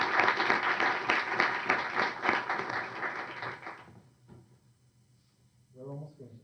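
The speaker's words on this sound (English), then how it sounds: "Let's give another round of applause for Martha." Applause from an event audience at an energy policy session, a dense wash of clapping for several seconds that cuts off abruptly and falls to near silence before a voice begins to speak.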